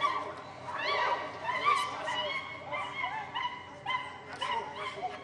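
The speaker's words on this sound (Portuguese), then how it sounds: "Teve uma briga de cachorros, nada sério." Dogs fighting: yelping, whining barks and high yips overlap in rapid bursts, fairly close and continuous throughout, with a voice faintly mixed in.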